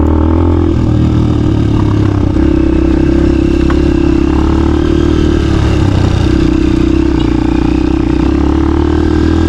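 A scooter engine runs steadily on a mountain trail loop toward the highest peak in Pangasinan, its low, continuous drone close and loud with faint rattles from the rough road throughout.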